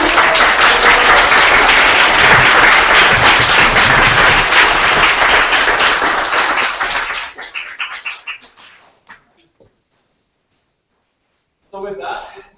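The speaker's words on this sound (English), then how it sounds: "Another huge applause for everybody for now." Audience at a Startup Weekend event in Tokyo applauding loudly and densely for about seven seconds, then thinning to scattered claps and silence before a voice speaks briefly.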